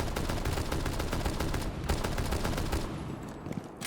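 Rapid gunfire from the video game Rainbow Six Siege, dense volleys of shots sounding continuously and loudly across the whole stretch, easing off briefly near the end.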